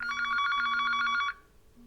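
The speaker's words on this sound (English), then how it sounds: "we have a phone call" A telephone bell rings during a live broadcast, a bright trilling ring lasting just over a second and then cutting off, with a faint low hum underneath and no speech.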